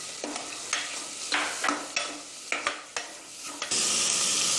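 Onions sizzle in a hot pan while a utensil stirs and scrapes in repeated strokes, ending in a steady loud hiss.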